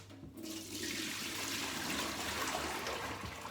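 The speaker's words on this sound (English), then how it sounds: "Let's tip the water out." Water tipped out of a bowl into a kitchen sink and drainer, a soft continuous gush and trickle, fairly quiet and close.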